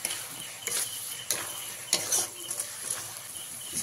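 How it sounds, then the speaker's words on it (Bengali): Spice masala and tomato paste sautéing in a pan, with a soft sizzle and intermittent scraping strokes of a spoon stirring, close and fairly quiet. "তাই টমেটোটাকে খুব ভালো করে কষিয়ে নিতে হবে।"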